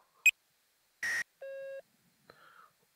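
Modular synthesizer patch: a sequence of separate short electronic sounds, a sharp high blip, a burst of noise, a steady pure sine-like tone, then a brief glitchy chirp, each isolated in silence.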